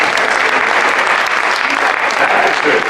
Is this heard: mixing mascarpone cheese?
no